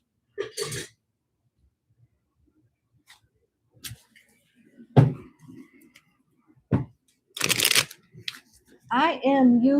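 A tarot card deck is shuffled in short, sharp riffling bursts separated by quiet gaps and soft handling noises, with a voice talking near the end.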